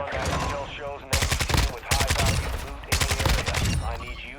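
Bursts of automatic gunfire from Call of Duty Modern Warfare II's DMZ mode crackle loudly in rapid volleys, several separate bursts with brief gaps between them, and a voice is heard under the shooting.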